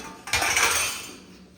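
Pots and dishes clatter sharply at close range during household dishwashing, a brief burst of metal vessels knocking together that fades over about a second.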